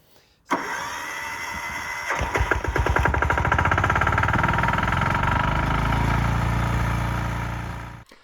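An engine-driven pressure washer with a turbo nozzle, used for cleaning a roof, starts abruptly and then runs loud and steady with a droning motor hum that fades slightly before cutting off at the end.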